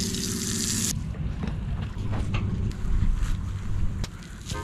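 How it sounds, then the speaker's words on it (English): Water gushing steadily from an outdoor beach tap used to rinse feet, splashing loudly and close, with a brief hiss at the start and wind buffeting the microphone. "let's rinse our feet off here. Turn the water on"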